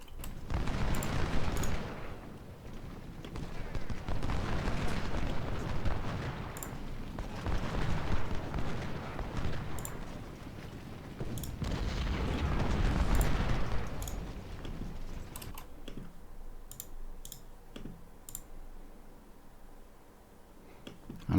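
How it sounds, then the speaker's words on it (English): Cannon artillery fires across a Civil War battle in the Ultimate General Civil War video game: repeated booming blasts with rolling rumbles and scattered sharp musket-like cracks over about twenty seconds, distant-sounding and layered. "We'll move our cannons up."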